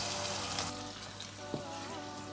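Gambian onion sauce simmers over a low gas flame, a faint continuous crackling sizzle like light rain with one small tap partway through and no speech.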